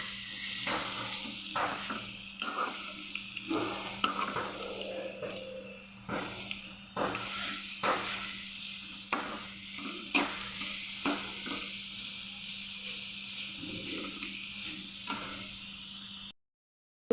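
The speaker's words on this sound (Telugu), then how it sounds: "బీట్రూట్ అయితే తురుముకుని తాలింపులో ఈ విధంగా వేసుకొని చక్కగా వేయించుకోవాలి" Grated beetroot fries in a tempering, sizzling softly while a spoon stirs and scrapes the pan in regular sharp taps, close and alone without voices.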